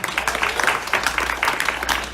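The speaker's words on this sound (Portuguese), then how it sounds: "Quem pode aplaudir o Senhor?" A church congregation applauding, steady sustained clapping from many hands filling the room without a break.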